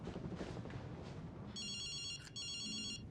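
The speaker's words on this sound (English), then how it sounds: "he calls a number linked to a special account, and Omar's phone starts ringing, proving the connection" Telephone ringing in a film scene, an electronic ring entering halfway through in two bursts with a short break between them, clear over a low murmur of background sound.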